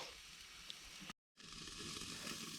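Soft, steady sizzling hiss of burgers on a campground grill, close by and quiet, with a brief moment of silence partway through.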